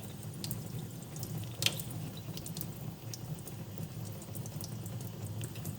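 Strong tap water runs steadily over pine (matsutake) mushrooms being rinsed at a sink, a constant hissing splash with small drips and knocks, fairly quiet and without speech.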